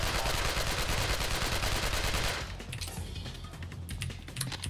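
Rapid automatic AK rifle fire in the PC shooter Alcatraz, a loud, dense stream of shots for about two seconds, then quieter bursts and clatter with echoing combat noise behind.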